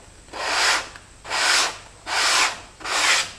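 Four steady back-and-forth scrubbing strokes of a sandpaper block on RC aircraft foam, each lasting about half a second with brief pauses between, close and clear.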